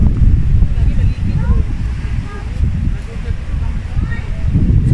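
Strong coastal wind buffets the microphone in a continuous loud roar with gusty swells, at the tip of Mindanao near Dahican, Mati, Davao Oriental, while people talk faintly underneath.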